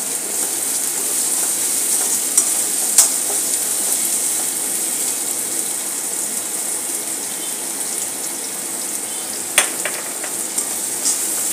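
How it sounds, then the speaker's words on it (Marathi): White onion sautéing in a pan, a steady close hiss of frying with occasional soft stirring clicks and scrapes, no talking. "छान परतत राहायचे आहे"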